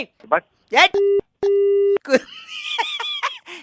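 A steady telephone busy tone sounds in two long beeps with a short gap between them after a hang-up, set among bursts of laughter and chatter on a phone line.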